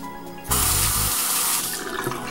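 A double-edged safety razor rinsed under a running tap: water gushes on abruptly about half a second in and pours steadily, close and fairly loud, with no talking.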